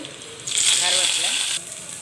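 Chana dal and onion hitting hot oil in a pan, a bright burst of sizzling that lasts about a second before settling back to a quieter crackle.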